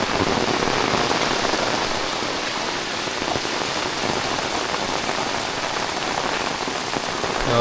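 A sudden morning downpour drums hard on a house in a Konkan village near Ratnagiri, a loud, unbroken wash of close raindrops with no voices over it.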